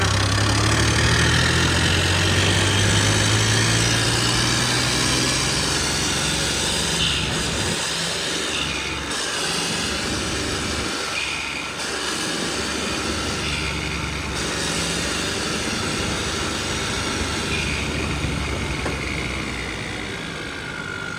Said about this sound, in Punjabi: ਲਓ ਜੀ ਟਰੈਕਟਰ ਆਪਣਾ ਗਿਆ ਸਟਾਰਟ ਤੇ ਹੁਣ ਆਪਾਂ ਕਰਦੇ ਹਾਂ ਚੈੱਕ